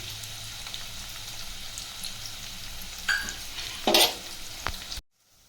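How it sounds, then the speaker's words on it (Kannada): Onions with curry leaves fry in hot oil in a pan for chicken masala gravy, a steady close crackling sizzle with a few louder spits and stirs near the end before it cuts off abruptly. "ಇದು ಈರುಳ್ಳಿ ಈಗ ಚೆನ್ನಾಗಿ ಫ್ರೈ ಆಗಬೇಕು, ಸ್ವಲ್ಪ ಗೋಲ್ಡನ್ ಕಲರ್ ಬರಬೇಕು."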